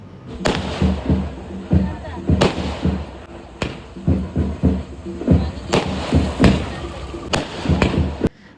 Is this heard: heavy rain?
no